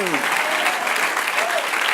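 Church congregation clapping together during a Spanish-language worship service, a dense, steady burst of applause close by with a voice heard over it.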